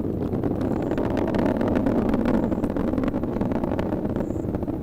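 Deep continuous roar of a SpaceX Falcon 9 rocket climbing during the Dragon CRS-15 launch, a steady rumbling thunder with crackle, sustained and fairly loud with no voices.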